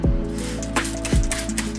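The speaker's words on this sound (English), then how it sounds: "I'm going to spray both boards that I picked up this morning." A spray bottle misting a mixed liquid onto two poplar boards, with two or three sharp hissing pumps spaced apart, close and fairly loud, with small clinks between.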